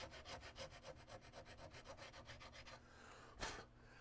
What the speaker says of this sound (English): while I'm using this rasp, I'm putting scratches down